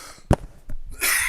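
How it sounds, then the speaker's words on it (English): A single short cough comes sharply up close, followed by a breath and a rush of noise. "I'm coughing a lot"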